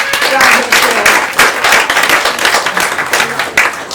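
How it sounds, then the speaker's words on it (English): Audience applause at a community mental health café arts and wellbeing event: a burst of clapping from a modest crowd, fairly close, continuous for a few seconds with uneven rhythm. "So please give yourselves a big round of applause."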